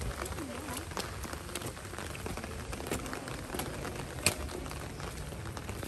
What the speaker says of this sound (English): We saw it's raining.